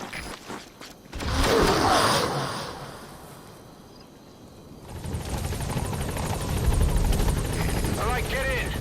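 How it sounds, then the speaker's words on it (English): A helicopter in Metal Gear Solid V swells in with a roaring rotor wash, eases off, then returns as a steady close thrumming engine, with voices talking over parts of it. "They'll call the chopper to get out of there."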